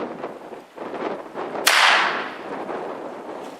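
.45 Long Colt round fired into a flour penetration target: a single sharp report midway that blooms into a bright, decaying burst over a constant noisy background.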